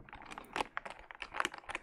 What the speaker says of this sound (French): j'aime beaucoup le bruit de ce clavier aussi